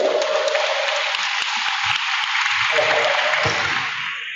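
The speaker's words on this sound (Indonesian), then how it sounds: "Tepuk tangan dulu Pak Camat itu." Applause from a mixed audience of women and motorbike riders gathered at a Muslim bikers' community anniversary, a dense steady wash of clapping that holds throughout and thins slightly near the end, with scattered low thumps underneath.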